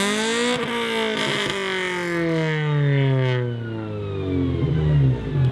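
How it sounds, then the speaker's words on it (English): A powerful car engine revs hard on a mobile dyno at a car show, its loud roaring pitch climbing, dipping and climbing again without a break. "run it on the mobile dyno"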